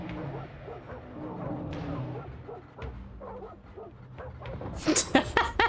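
Dogs in the Soulstone Survivors video game barking, yipping and whimpering in quick repeated bursts, with a louder cluster of sharp barks near the end over a busy game background.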